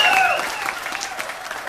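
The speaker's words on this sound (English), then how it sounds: "Can we give her a round of applause as well?" A wedding crowd at a best man speech applauds in a dense burst that tapers slightly, with a voice and a few whoops rising over the clapping at the start.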